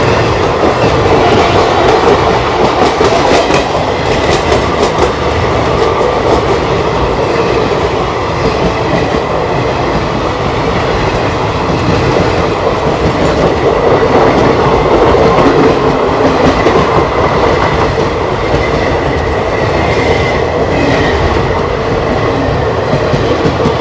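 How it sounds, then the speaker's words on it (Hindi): A weekly express train from Tirupati to Raxaul rushes past, heard from aboard a Korba–Raipur local train, with a loud, steady rumble and wheel clatter filling the whole stretch and no talking. "सामने से आ रही है तिरुपति से चल के रक्सौल की ओर जाने वाली वीकली एक्सप्रेस"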